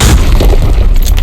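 In the video game Arena Breakout, a grenade goes off as a single loud, close blast with a harsh, debris-like crack filling the short moment.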